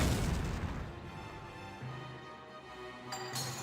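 A grenade goes off in Valkyria Chronicles Remastered, a loud booming blast that rumbles and decays over several seconds, with a small sharp sound near the end.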